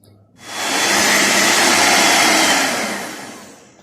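An electric mixer beats butter and sugar into a pale, creamy mixture for homemade petit fours. It kicks in abruptly, holds a loud, steady whirring roar for about three seconds, then tapers off. No one speaks.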